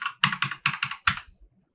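Someone types on a partly broken computer keyboard, making six crisp, close clacks in quick uneven succession followed by a faint last tap.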